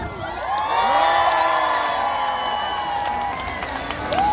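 Fans at a festival encore cheer, whoop and shout as a dense crowd roar carries steadily and loudly throughout, with high voices rising above it at an outdoor trot concert by a harbour.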